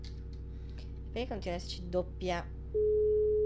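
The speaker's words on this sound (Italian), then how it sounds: "doppia notifica, dimmi, doppio alert" A stream notification alert ends in a steady, sustained electronic tone that follows a woman's brief speech, with a low hum running underneath throughout.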